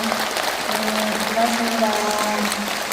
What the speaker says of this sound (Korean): 여러분 따뜻한 박수로 맞이해 주시죠